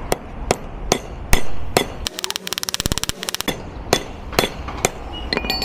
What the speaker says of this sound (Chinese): 我得把这个工具里边这个螺丝砸出来，想把它砸出来，只能一点一点去震它